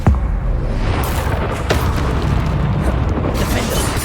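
Confringo blasting spells burst in Hogwarts Legacy, a loud continuous roar of booming explosions and rumbling battle noise that fills the whole stretch without pause.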